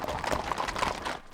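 Hooves of a horse herd on the move, picking up pace during a long horse drive, producing a brief, dense, close patter of overlapping hoofbeats.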